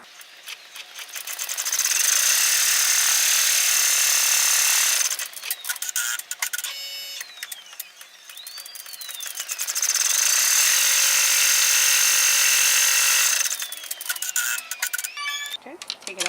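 An in-the-hoop embroidery machine stitches an outline onto vinyl held in a 5x7 hoop, giving two long, loud bursts of rapid whirring needle chatter separated by quieter clicks and mechanical shifting.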